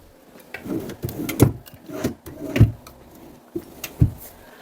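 Wooden MDF drawers in the armrest of a dark wenge sofa sliding open and shut, a series of close, hollow knocks and slides with several sharp bumps spaced about a second apart, with no speech.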